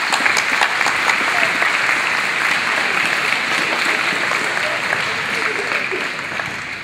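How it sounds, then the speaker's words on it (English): A high school audience at a Blaxland High School band event applauds loudly and steadily, a dense sustained wash of clapping that eases off slightly near the end. "Give him a clap"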